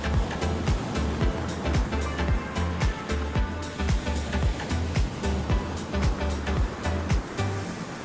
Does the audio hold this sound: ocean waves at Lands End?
yes